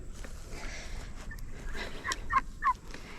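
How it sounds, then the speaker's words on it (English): Turkeys in a farmyard dust-bath area give a few short, bright gobbling calls in the second half, fairly close over a steady outdoor background with no talk. "You are silly turkeys."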